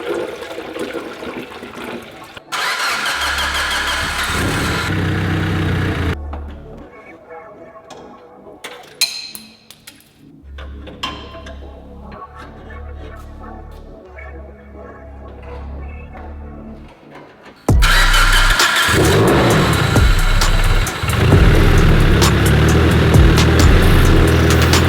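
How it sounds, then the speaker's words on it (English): A modified car with a newly fitted turbo starting and revving, a loud steady engine drone that drops to a quieter idle with clicks, then surges back up to a loud sustained rev. "So curious to see how this new turbo sounds."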